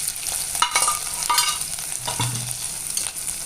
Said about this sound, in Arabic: هنزل هنا بمعلقه الثوم. طبعا انا ده كله لسه دقاها، بصوا هتتحمر بس معاه